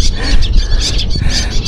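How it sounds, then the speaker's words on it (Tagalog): A large flock of birds calls noisily near the water, with a dense, overlapping chorus of high chirps and shrill cries carrying steadily over a low background rumble, close and loud. "Ayan, dami ibon no, ang ingay."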